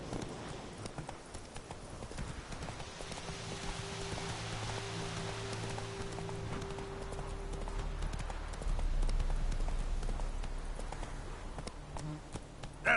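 Roach the horse galloping in The Witcher 3, steady clip-clop hoofbeats rolling on under a rainy, hissing ambience that swells midway, with a brief voice near the end.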